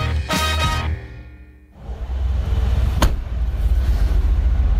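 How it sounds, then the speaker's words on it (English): A car boot slams shut with one sharp thud amid steady low traffic rumble near Heathrow Airport's Terminal 2, after a brief musical swell fades out. "Slamming his car boot shut,"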